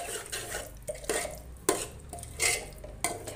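A spoon scraping and clattering in a pan as spicy masala vajadi is stirred and sautéed, with irregular knocks against the metal over a faint sizzle. Close and fairly quiet, with no voices.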